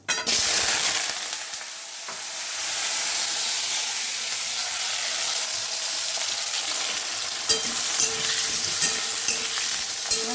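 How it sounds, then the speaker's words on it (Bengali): Potatoes frying and being stirred in a pan: a steady, loud, broadband sizzle throughout with occasional clinks of the stirring utensil, no voices. "আলুগুলোকে ভালো করে ভেজে নেব"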